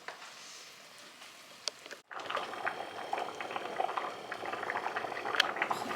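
Rice for Persian polo boils in a pot before draining, a steady bubbling and rolling simmer that briefly drops out and then returns fuller and louder.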